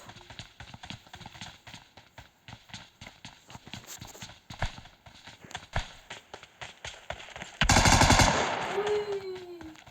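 Gunfire in a video game rattles as rapid, evenly spaced shots in a long string, then one louder burst near the end followed by a short rising tone.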